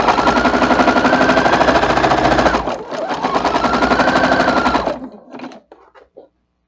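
A sewing machine stitches a small quilt piece in a steady, loud, rapid mechanical whir that dips briefly midway, resumes, then stops and leaves a few faint clicks.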